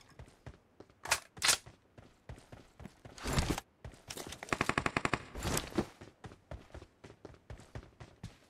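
DP-28 machine gun fire in BGMI, with several loud bursts and a rapid string of evenly spaced shots among softer clicks and footsteps, not very close.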